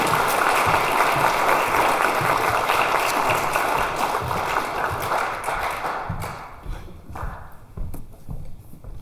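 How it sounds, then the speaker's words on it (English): Graduation-style applause from the crowd at a Tri-Alpha National Honor Society induction ceremony for student inductees, a dense steady roar of clapping that thins out and fades over the last few seconds. "Let's give a round of applause for the student inductees."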